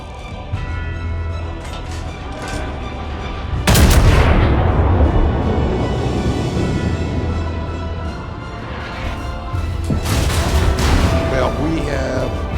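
Heavy warship turret guns fire in a naval battle video game, a big boom near four seconds and another burst near ten over a low rumbling background, with someone talking throughout.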